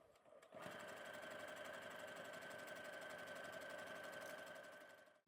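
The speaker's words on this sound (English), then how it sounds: "I'm going to sew down the sides. I'm going to use Mariflex thread for maximum stretch." A sewing machine stitches the side seams of leggings with stretch thread. It starts with a quick thump and then runs as a fast, steady, close mechanical whirr for several seconds before winding down.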